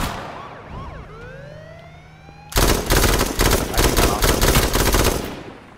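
Vehicle sirens in the video game H1Z1 on PS4, rising and falling wails that sweep upward over a low hum, then abruptly give way to loud, rapid bursts of automatic gunfire that dominate the rest.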